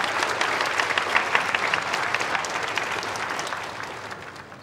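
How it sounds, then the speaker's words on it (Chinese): A crowd of students at a college competition claps to welcome the vice dean, a lively burst of many hands that is loud at first and then tapers gradually toward the end. "大家掌声欢迎。"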